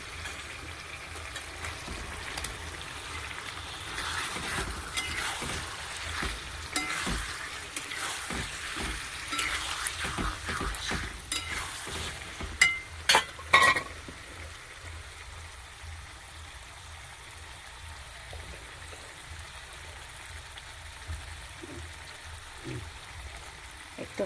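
Chicken marinated with ginger, garlic, chili and turmeric fries in a pan, giving a continuous bubbling sizzle with stirring scrapes and clatter that grows busier, then settles into a softer, steady hiss.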